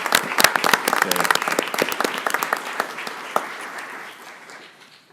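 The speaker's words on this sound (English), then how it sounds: "let's give a round of applause for our social workers that work hard each and every day" A round of applause from a crowd, many hands clapping steadily and fading out toward the end.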